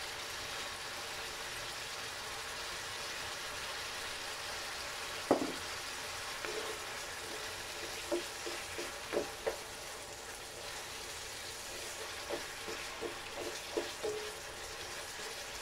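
Upo gourd sautéing with corned tuna in a pan, a steady close sizzle and frying hiss throughout, with scattered light clicks and taps of stirring and no voices.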